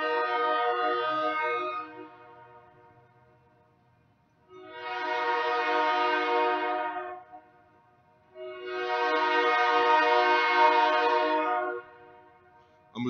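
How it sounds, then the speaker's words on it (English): A train sounds its horn outdoors in three long, loud blasts, each lasting a couple of seconds with short quiet gaps between them, as the train passes nearby. "I'm actually outside and a train is coming by."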